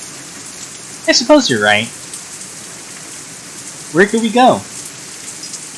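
Steady rain falls in a visual novel scene, a constant soft hiss filling the background while two short bursts of spoken dialogue sit on top of it.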